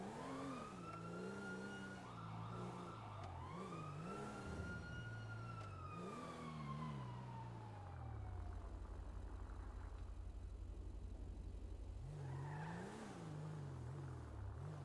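Emergency vehicle sirens wail faintly in the distance in rising and falling sweeps, mixed with a low vehicle engine drone.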